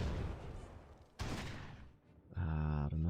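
Gunfire from the World War II strategy game Close Combat 3 plays as a couple of sharp bursts with echoing tails, followed by a tonal in-game sound at the end, all fairly quiet.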